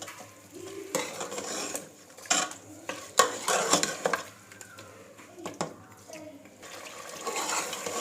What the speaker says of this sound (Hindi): ये क्रीम ऐड कर देनी है और इसे अच्छे तरीके से हल करना है।